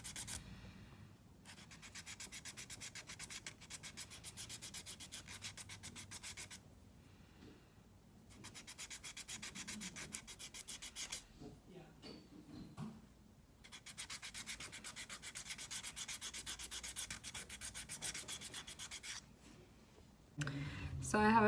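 Nail buffer rubbing gel polish off fingernails, close and quiet, in repeated bursts of rapid scratchy strokes separated by short pauses.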